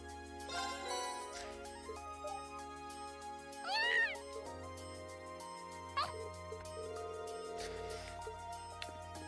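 A cat meows in the video game Trails of Cold Steel, with a few clear mewing calls standing out over continuous game music and chiming effects, and no one talking.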